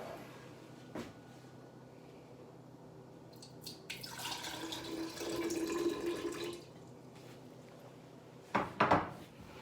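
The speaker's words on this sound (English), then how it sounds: "So now I'm going to take this container and pour the liquid into my very tall vase" Liquid poured from a container into a tall glass vase gives a soft, steady splashing pour for a few seconds, followed by a brief clink of glass near the end, with no talking.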